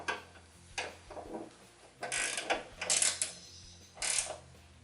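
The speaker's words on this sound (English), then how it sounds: "tighten it down with the provided nylock nut" A ratchet tightens a nylock nut on the upper ball mount of a 2014-2019 Ford Fiesta ST hood strut, heard as a few separate bursts of clicking with quiet gaps between them and no speech.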